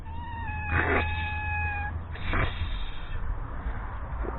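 A kitten meows a couple of times at close range, drawn-out cries over a steady low hum, with a fainter short call later.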